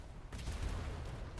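Ship cannons fire in a naval pirate battle game, a dense rumbling barrage of broadside shots rolling continuously after a brief lull, loud and booming in the low end.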